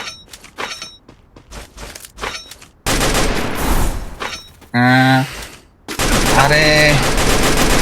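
Gunfire in a video game, rapid bursts and single shots rattling loudly amid crashing and shattering effects, with someone talking excitedly over it.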